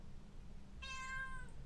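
A pet cat lets out one drawn-out meow after a brief quiet pause. The call is near and clear, rising and then fading indoors, with no voices.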